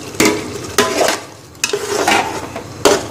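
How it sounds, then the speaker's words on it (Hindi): Fried chicken pieces tipped into a hot pan and stirred, with close, loud bursts of scraping and clattering against the pan over a soft sizzle, repeating four times in quick succession. "इसमें ये फ्राई करा हुआ चिकन डाल दें, एक साथ पूरा चिकन डाल दें"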